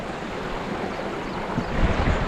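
Bambarakanda waterfall in Sri Lanka pours in a steady, broadband rushing roar, close and continuous, swelling slightly toward the end, with no voices.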